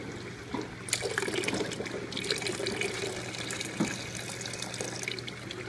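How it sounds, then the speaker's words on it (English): Water runs and splashes steadily as about a cup is poured into a tilapia tank to raise the pH, close by, over a low constant hum. "every 2 minutes we're going to put in about a cup of water"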